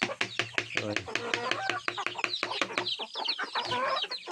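Native chickens cluck in quick, repeated bursts, close and fairly loud, with overlapping calls from several birds throughout.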